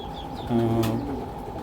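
A big male black racer pigeon gives a low, throaty coo close by, a short rolling call in the middle of quiet background chatter.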